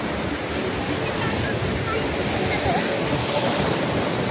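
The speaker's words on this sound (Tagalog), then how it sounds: "Lakas ng alon." Ocean waves surge steadily at Desaru beach, a continuous loud roar of surf and wind with no clear breaks, filling the whole stretch without talk.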